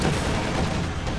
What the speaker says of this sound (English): Couple of Panzerfausts bouncing off the front armor of these IS-2s.